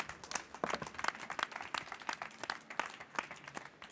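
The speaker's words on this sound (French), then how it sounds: "on les applaudit bien" A crowd at the Sirha food trade show in 2015 applauds a duo, a fairly quiet, uneven patter of many separate claps heard from some distance for about four seconds.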